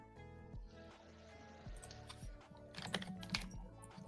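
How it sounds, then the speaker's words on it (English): Keyboard typing with soft, irregular clicks, mixed with other clutter and some background tones. "Wow, that mechanical keyboard."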